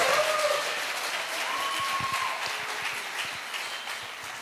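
A recorded applause effect played by a sound technician during a Mother's Day show, a steady wash of clapping with some whistling tones over it, moderately loud and continuous.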